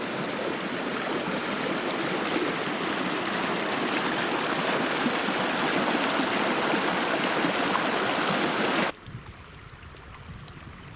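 A mountain creek rushes steadily over rocks on a backcountry backpacking route, a loud, dense wash of water close by that cuts off abruptly near the end, leaving quieter outdoor ambience.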